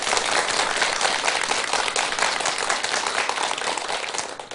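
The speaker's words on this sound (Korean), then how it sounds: "우리 대덕 스님들께 큰 박수 한번 주시기 바랍니다." A lecture audience at a Buddhist dharma talk applauds the monks with steady, dense clapping that stays loud and even throughout, with no voices over it.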